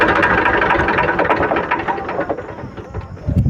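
An Eicher 380 tractor engine runs close and loud with a steady, rough idling rumble and no talk over it, wavering slightly toward the end as it is being switched off.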